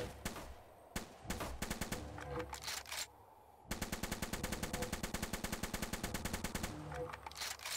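Rapid gunfire rings out in the VR game Zombie Training Simulator, with single shots followed by long, fast automatic bursts that are sharp and regular, separated by brief pauses.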